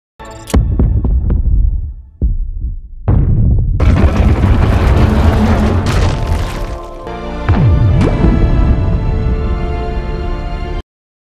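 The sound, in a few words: missile explosion in film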